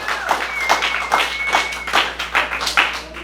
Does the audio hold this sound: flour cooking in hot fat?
no